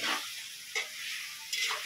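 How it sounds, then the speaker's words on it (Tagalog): Adobo fries in hot oil after boiling, a loud crackling sizzle that rises in two brief bursts as the pieces are stirred, with no talk over it. "Pakukuluan, tapos prito."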